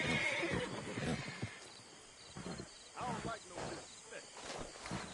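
Horse in Red Dead Redemption 2 neighing and whinnying in a loud, drawn-out call near the start, followed by snorts and shifting hoof sounds, with voices talking in the background.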